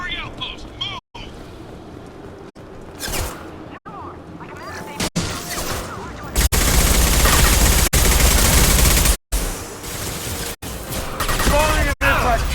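Bursts of weapon fire from the video game Mass Effect 2, heavy sustained blasts dominating the middle and end with brief pauses, earlier stretches quieter with scattered shots under talk.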